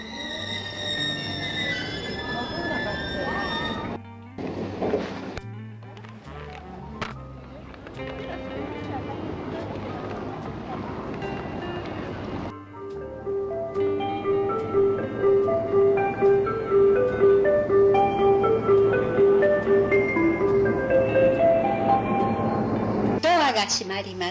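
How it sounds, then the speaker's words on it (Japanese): A train pulling into a station platform, its rumble and screeching wheels rising in level, with rail-car clatter and a tonal squeal; platform announcements play over the arrival. "富原行き列車が参ります。"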